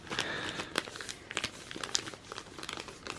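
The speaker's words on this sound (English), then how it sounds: "appear to be just plastic bags" Plastic bags from an MRE pilot survival ration being handled, with close, busy crinkling and crackling in irregular bursts of rustle throughout, loud and without speech.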